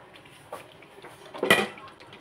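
A lid is set over a pot of white chicken on a medium flame, giving a soft metallic clink followed by a louder clattering settle of metal, close and brief against a quiet kitchen background.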